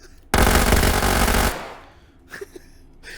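Custom Sosiggun in H3VR firing a rapid full-auto burst, a loud, close roar of shots lasting just over a second, then clattering mechanical noises as it stops.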